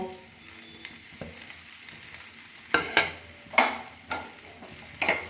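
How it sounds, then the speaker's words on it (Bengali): Small pieces of bread fry in oil in a frying pan with a soft, steady sizzle. Several sharp clinks and scrapes of stirring stand out close by. "এবার এই টুকরো করা পাউরুটিগুলোকে আমি এই ফ্রাই প্যানে তেলের মধ্যে দিয়ে দেব।"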